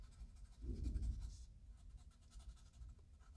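Soft, faint scratching of a dull pencil scribbling shading onto paper, close and continuous with a slightly stronger burst near the start, no talking.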